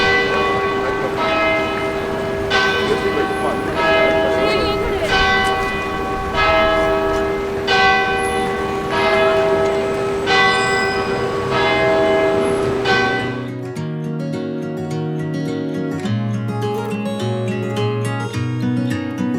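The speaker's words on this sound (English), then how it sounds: "I just love hearing those church bells ring and being right outside to hear that happen" Church bells ring in a steady, regular sequence of resonant strikes for most of the time, loud and near, heard from right outside the church in London, before a different tonal sound takes over.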